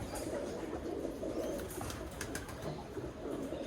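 Soft, steady cooing from a pair of Birmingham Roller pigeons, a hen and a cock, sitting calm and relaxed, with low murmuring calls continuing throughout against faint background noise.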